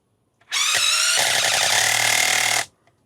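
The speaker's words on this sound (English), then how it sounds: "And this is supposed to be a quiet hydraulic impact driver, so we will be testing the sound level when driving all fasteners today." Milwaukee M18 Surge hydraulic impact driver on speed 1 sinking a 3-inch deck screw, a loud steady whirring buzz lasting about two seconds, with a slight shift in pitch partway through as the screw bites deeper.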